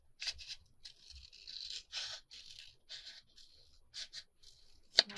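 Scissors cutting paper to make a small fold-up journal clutch, a run of short, close, faint snips and scrapes in uneven rhythm, quiet and alone.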